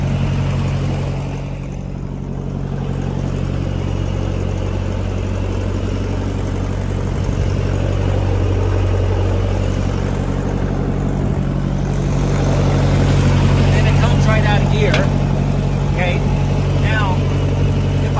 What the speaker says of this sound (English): when I push the lever up, you'll hear where you can see it kind of grind in